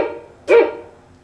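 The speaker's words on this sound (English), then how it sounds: "Let's take 3 dog barks, add it to 1" A single short dog bark sounds once, loud and close, after a quiet lead-in with faint background noise.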